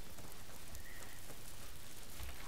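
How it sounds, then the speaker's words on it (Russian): Steady rain falling in an autumn forest in the video game Vermintide 2, a dense, even patter filling the scene with no clear voices. "Прекрасный осенний лес. Дождичек."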